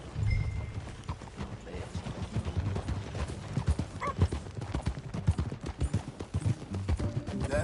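Horse hooves clip-clop in a steady walking rhythm on hard ground, with a low rumble beneath and a brief snort partway through.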